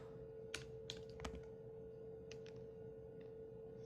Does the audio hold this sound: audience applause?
no